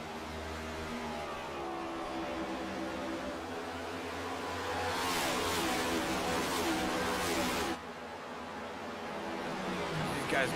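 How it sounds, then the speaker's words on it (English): Next Gen stock car engines roar around the Phoenix oval in an iRacing league race, a loud continuous drone that swells and dips as cars pass, with a brief drop near the end before building again. "listen to these engines roar around Phoenix"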